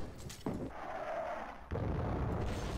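Explosion in the GTA 5 video game: a heavy boom followed by a sustained roaring rumble, and then a second sharp blast with continuing noisy debris rumble.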